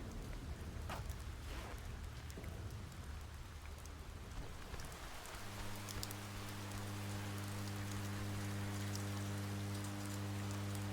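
Steady rainstorm in the video game Oxenfree, dense hissing rainfall with a faint rumble, continuous and fairly quiet, joined halfway through by a low sustained droning tone.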